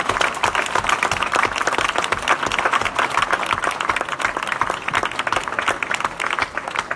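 Steady applause fills the hall after a panel discussion on food waste, a dense, even wash of many hands clapping at close range throughout, with no talking.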